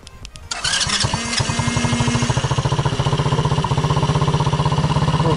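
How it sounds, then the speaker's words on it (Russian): A Mowgli Sharp quad bike's engine cranks briefly with a starter whir, then catches and settles into a loud, steady, rapidly pulsing idle close by. "завод двигателя"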